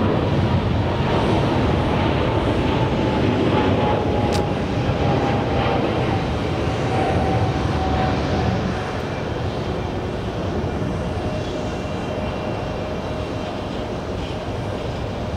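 A Qatar Airways Boeing 777 in retro livery at JFK airport gives a steady, loud broadband jet roar that holds for the whole stretch, with slight wind buffeting on the microphone.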